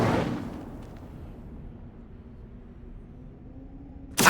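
An Incendio fire spell in Hogwarts Legacy bursts out as a sharp, loud whoosh at the start, then trails into a low rumbling decay and near quiet, before another abrupt burst cuts in at the end.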